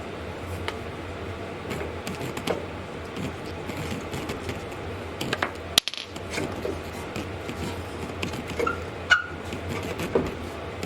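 Ratchet working on the front axle nut of a 1996 Toyota 4Runner 4x4, soft repeated clicking and mechanical clatter at close range, fairly quiet, with one sharp knock partway through and no talking.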